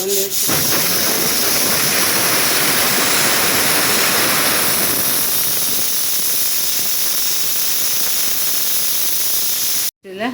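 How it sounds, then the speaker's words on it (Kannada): A mixer grinder churns roasted coconut masala with a little water in a steady, loud, close whirring roar that runs unbroken for about ten seconds and then cuts off abruptly. "ನಾನು ಇವಾಗ ಸ್ವಲ್ಪನೇ ನೀರು ಹಾಕಿ ಗ್ರೈಂಡ್ ಮಾಡ್ಕೊಂಡು ತರ್ತೇನೆ."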